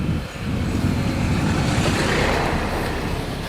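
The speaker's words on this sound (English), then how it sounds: "There's a car coming." A car approaches and passes along a very narrow road, a steady broadband rumble of tyres and engine that holds loud and close for several seconds.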